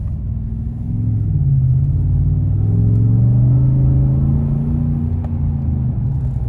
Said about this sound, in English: We can hear the faint but still kind of purposeful exhaust from the Borla exhaust